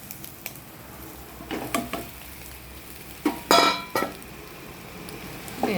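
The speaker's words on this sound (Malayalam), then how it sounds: "ഇനി നമുക്ക് ഇതിലേക്ക് മക്രൂണി ഇടാം." Spoon clinks and scrapes in a pan as macaroni goes in and is stirred for a masala pasta, a few separate clattering bursts over a quiet background.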